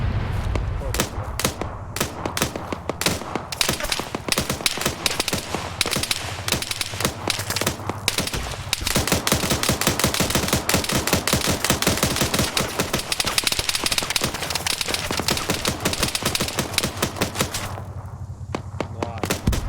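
Sustained rapid gunfire fired at a distant target in a tactical military shooter, a dense stream of sharp cracking shots through nearly the whole stretch, briefly pausing midway and ending with a short lull.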